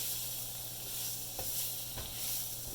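Peppers and onions still coated in a little grease sizzle steadily in a pan with flour for hamburger gravy, a continuous close hiss with a couple of faint stirring scrapes.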